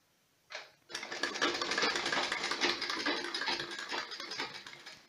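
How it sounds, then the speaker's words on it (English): A sewing machine stitches around a fabric sleeve, running loud and close in a steady rapid whir after a brief start, with no talk. "I'm going to first sew it around so that it gives me a stable"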